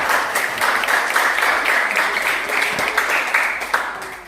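A church congregation claps during a worship service, giving sustained and fairly close applause with a few sharper individual claps standing out. It tapers slightly toward the end.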